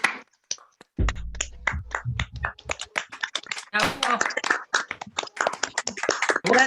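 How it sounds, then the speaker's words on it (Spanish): Scattered clapping and taps from a small group, uneven and overlapping, mixed with voices talking over the applause. "darles un enorme, enorme aplauso"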